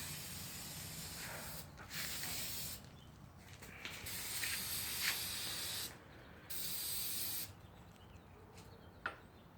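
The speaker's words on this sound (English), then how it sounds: "you got any brake fluid or anything, brake cleaner, you can clean it off" Brake cleaner aerosol sprayed on a 2001-2005 Honda Civic front wheel bearing assembly: several bursts of sharp, broad hiss separated by brief pauses, with a few small clicks in between, fairly close and heard alone.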